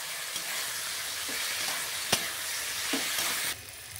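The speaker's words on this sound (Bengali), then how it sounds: "দিয়ে ভালো করে আবারও মশলার সঙ্গে আমি নাড়িয়ে নেব।" Boiled chickpea dal and potatoes get stirred into spices in a hot pan, with a continuous close sizzle, a few soft scrapes and one sharp clink before the sizzle drops quieter near the end.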